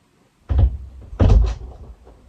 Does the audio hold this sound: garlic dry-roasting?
no